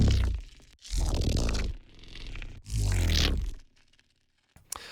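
An electric sound effect layer from the Polarity sound library, made of crackling, buzzing bursts with gritty crunchy texture in three dense surges, then sparse crackles and a final sharp snap, loud and alone.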